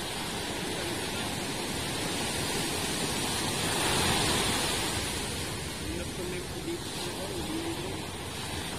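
Rough sea waves after a typhoon roll in a continuous close rush of surf and wind, swelling slightly mid-clip, with a faint voice underneath.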